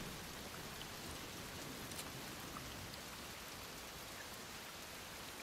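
Steady rain pours in the Desperados 3 video game at O'Hara Ranch, a dense even hiss with no breaks across the whole stretch, loud and close with no voices over it.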